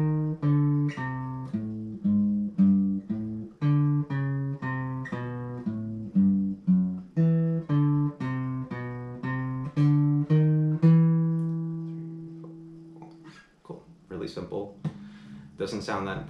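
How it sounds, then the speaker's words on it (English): A plucked, tonal bass line from a jazz standard steps through evenly spaced notes for about thirteen seconds and ends on a sustained note, followed by a short stretch of talking. "So the bass line sounds something like this."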